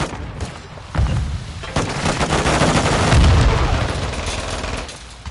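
Modern Warfare 2 combat: a grenade blast and bursts of rapid gunfire blend into a dense, loud, continuous barrage of thuds and cracks with a heavier boom midway.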